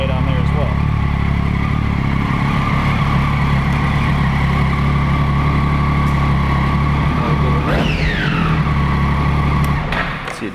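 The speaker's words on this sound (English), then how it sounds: "Got the very distinctive triple sound." A 2007 Triumph Daytona 675 with its 675cc triple engine idles loud and close with a steady, buzzing throb, briefly revving up and dropping back near the end, with no talk over it.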